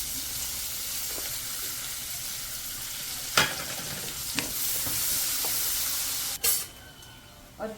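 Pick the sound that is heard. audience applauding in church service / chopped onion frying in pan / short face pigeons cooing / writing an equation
chopped onion frying in pan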